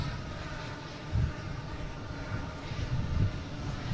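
JetBlue flight 1620 airliner at Boston Logan airport, a low distant engine rumble that holds steady with slight swells, faint and heard alone.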